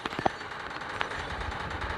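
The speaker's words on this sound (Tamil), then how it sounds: "போலீஸ் கண்ணுக்கு மினி கன் வச்சு போட்டுன்னு சுட்டாதான் போகுது போல" Minigun fire in the Indian Bike Driving 3D mobile game, a few quick sharp bursts followed by a thinner rattling spray, moderately loud over steady background noise.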